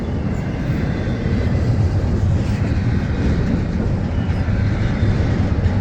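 A freight train rumbles past steadily and loudly at a train meet in St. Augustine, a continuous low roar with rolling rail noise and no speech.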